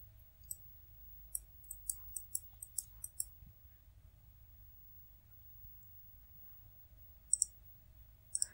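A computer mouse clicks sharply and close up while Inkscape is in use. Several quick clicks come in an early cluster, followed by a long quiet stretch and two more pairs of clicks near the end.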